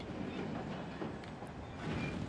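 A train rumbles steadily through a haunted train yard in the Alan Wake video game, a dense, continuous low roar with faint clatter that swells slightly toward the end, with no voices over it.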